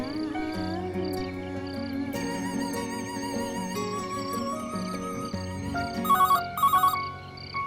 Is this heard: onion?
no